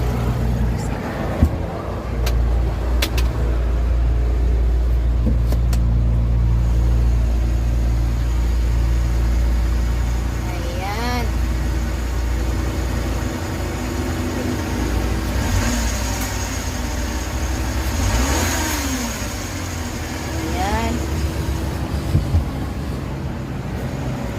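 A modified Suzuki Carry multicab engine runs steadily close by, with a couple of brief revs, while a person talks over it throughout.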